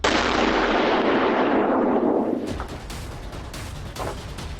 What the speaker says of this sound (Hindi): तेल अवीव में ईरानी मिसाइलों के धमाकों की आवाज सुनाई दे रही है।